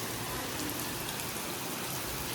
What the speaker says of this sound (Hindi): और अच्छी खासी बारिश हो रही है आज तो